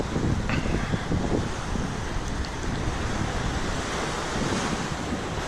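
Surf rolls onto a small beach at Chic's Beach, a steady, close wash of breaking waves mixed with rough wind buffeting the microphone, with no voices.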